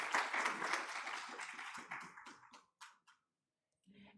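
An audience at an internet governance forum claps for a speaker coming on stage, dense applause that thins into a few scattered claps and fades to silence.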